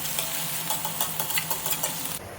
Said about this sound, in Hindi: अब प्याज को लाइट गोल्डन होने तक ऐसे ही छोड़ देती हूँ।